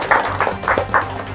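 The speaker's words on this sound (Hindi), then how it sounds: "हम आपका हार्दिक स्वागत और अभिनंदन तालियों के साथ करता हूँ" Audience at a community seminar in Surat clapping to welcome guests, a few distinct bursts of hand claps in loose rhythm, moderately close, with no talking.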